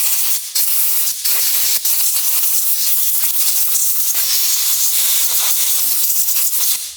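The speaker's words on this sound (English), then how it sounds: "and then we can take some compressed air" Compressed air blasting loose grime and solvent off a roller lifter while a small-block Chevrolet engine's cylinder heads and valve train are assembled, a loud, close, continuous hiss with a few brief breaks in the stream.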